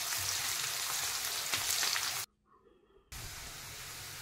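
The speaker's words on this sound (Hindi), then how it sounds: "इसको मैंने रफली फाइन काट लिया है और इसको फ्राई कर लेंगे" Roughly chopped onion sizzles steadily in a pan, a loud continuous frying hiss that cuts out abruptly for under a second before resuming at the same level.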